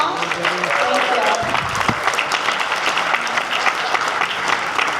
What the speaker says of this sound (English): can we give all of them a big, big round of applause?